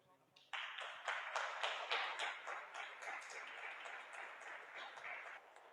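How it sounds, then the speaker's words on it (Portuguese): A church congregation applauds, many hands clapping in a quick rhythmic burst that starts suddenly and continues steadily, moderately loud and slightly roomy. "Aplauda o Senhor."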